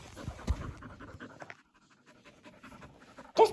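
A puppy pants in quick, close, short breaths after fetching a ball, ending with a louder burst of sound.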